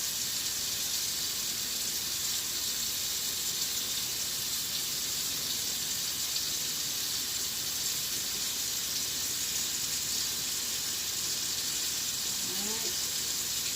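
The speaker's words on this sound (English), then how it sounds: "going to rinse some of this mixture off my fingers" Kitchen tap water runs steadily while hands are rinsed of a chicken coating mixture, a continuous even hiss throughout, with a brief word spoken near the end.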